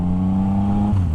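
A 2016 Yamaha FZ-09/MT-09 motorcycle engine revs steadily with a strong, buzzing drone whose pitch dips slightly near the end of a short, loud burst, with no talking.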